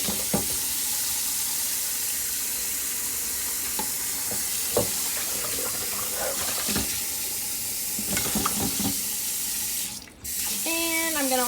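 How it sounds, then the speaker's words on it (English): Hot water draining from a pot of boiled eggs, then cold tap water running steadily into a sink, with clinks of eggs and pot and a rising fill tone at the end. "I drain out all the hot water."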